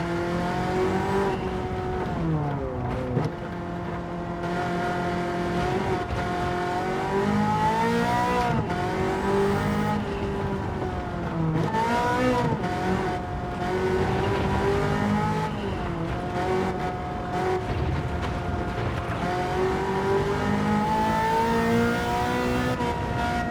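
Ferrari F40 on the Nürburgring, its engine revving hard and loud throughout, with repeated rises and drops in pitch through gear changes and corners and no talk over it.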